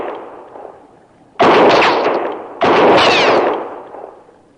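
Two sharp, loud gunshots in an old-time Western radio drama set at Fort Laramie, about a second apart, each ringing out with a long echoing decay, heard alone without voices.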